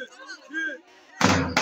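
A drum struck to start a sack race at a village picnic in Çamlıpınar, Çorum: two loud, booming hits in quick succession, right after someone shouts.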